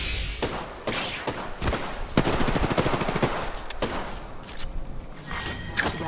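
Apex Legends gunfire in a ranked match, with a fast automatic burst in the middle and scattered single shots, thuds and impacts around it, loud and close.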